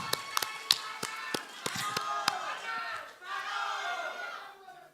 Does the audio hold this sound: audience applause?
yes